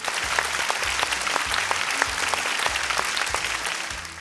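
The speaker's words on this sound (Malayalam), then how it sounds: "ഞാൻ പറഞ്ഞത് നിങ്ങൾ ആക്സെപ്റ്റ് ചെയ്യുന്നുണ്ടെങ്കിൽ അതിനും വേണം നല്ല ചൂട് കൈയടി" Audience at a summer camp gathering breaking into warm applause, dense rapid clapping from many hands, fairly near and sustained for a few seconds before easing off.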